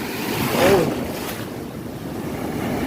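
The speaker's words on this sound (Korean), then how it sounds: "큰 파도들이 이렇게 옵니다" Big ocean surf at Kuta Beach, Bali, roars steadily with heavy wind buffeting the microphone; waves wash in continuously without a distinct single crash.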